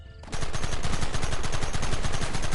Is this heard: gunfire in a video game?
yes